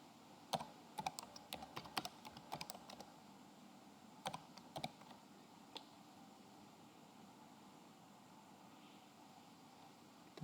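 Quiet, close keystrokes on a computer keyboard while someone types code, in irregular bursts of sharp clicks that thin out and stop, leaving a soft hiss of background noise. No one speaks.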